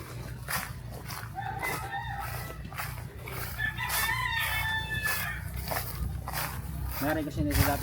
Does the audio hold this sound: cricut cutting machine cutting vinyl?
no